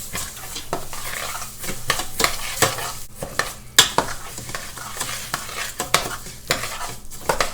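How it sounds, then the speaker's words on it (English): Rice sizzles in hot oil in a pan while being stirred, with repeated scraping and clinking strokes of a utensil over a steady frying hiss, close and moderately loud. "you're going to want to put the rice in the oil because you're going to want to get it real brown, a golden brown and crispy"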